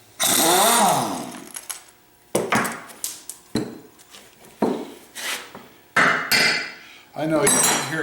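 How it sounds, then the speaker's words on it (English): Metallic tings and clanks of a tool striking a bolt while a 63-year-old Ingersoll Rand 242 air compressor is taken apart, with several sharp close impacts separated by short pauses. "I know you can hear a ting on that last bolt"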